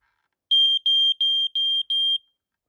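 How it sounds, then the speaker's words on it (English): A Prosafe photoelectric smoke alarm sounds during a push-button test with five evenly spaced, loud, shrill beeps, each a sustained tone with a quick flutter, separated by short silences, and no talking. "as you can hear and see, it works. The red light's flashing and the alarm is going off."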